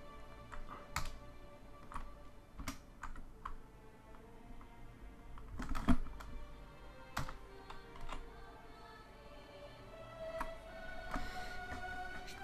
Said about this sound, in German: Ich glaube, meine Tastatur gibt den Geist auf.